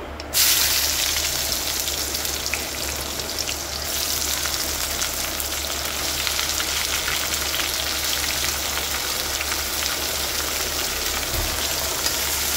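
Boiled beans and carrot pieces fry in hot oil with cumin and mustard seeds for a curry, giving a steady, close, continuous sizzle that holds through the whole stretch without any talking.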